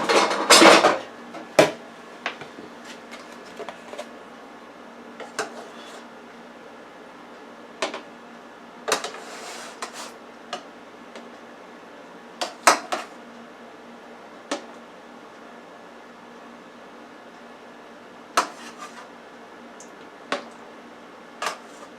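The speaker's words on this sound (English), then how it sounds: "I'm getting a container" Pots, dishes and containers clattering in a kitchen as a container is fetched, with one loud jumble of knocks at the start, then scattered sharp clanks and taps at irregular intervals over a quiet background.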